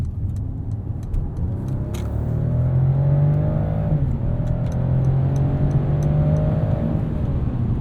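An inline-six engine in a 2021 Mercedes-Benz E450 4Matic sedan revs up and accelerates, its rising whine climbing steadily in pitch over a loud, continuous drone.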